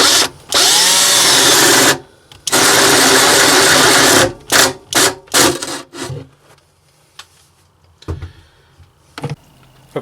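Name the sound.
power drill punching a hole in a holding tank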